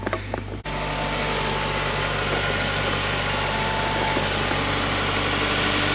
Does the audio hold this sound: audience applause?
no